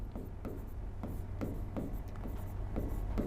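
A teacher writing on a board, a rhythmic series of short scratchy strokes about every half second over a low steady hum, quiet and close, with no talk.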